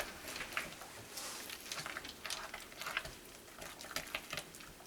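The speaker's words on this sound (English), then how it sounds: "And I'm going to stir that in." Hot-process soap stirred after aloe vera juice and gel are added, giving soft, faint, irregular scraping and swishing strokes close by, with no voices.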